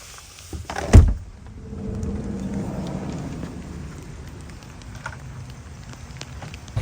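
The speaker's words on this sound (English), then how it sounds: "As you can tell, it's raining pretty good." Steady rain drums on the roof of a van parked at night in Benson, a soft continuous patter after a single sharp thunk near the start, with no talking.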